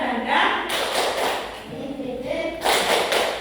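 A fourth-grade class claps out a rhythmic patterned cheer, with bursts of group clapping and thumps alternating with chanted voices.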